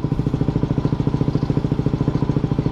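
A Yamaha WR250R adventure motorcycle runs with a steady, fast, rhythmic single-cylinder engine pulse, close and fairly loud and heard alone with no talk.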